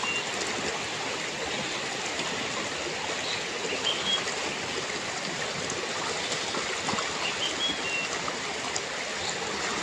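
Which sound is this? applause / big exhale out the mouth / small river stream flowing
small river stream flowing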